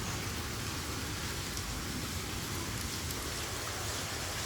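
Steady heavy monsoon rain pouring down in Kerala, a dense unbroken hiss with no talking.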